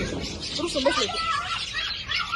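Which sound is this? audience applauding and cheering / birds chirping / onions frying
birds chirping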